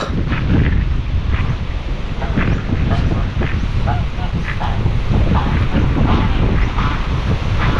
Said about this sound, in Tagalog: malakas yung hangin ha?